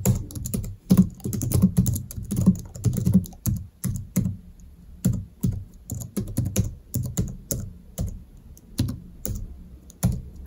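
Typing on a Logitech MX Keys keyboard, close and clear, a steady run of soft thocky keystrokes with brief pauses, no voice over it.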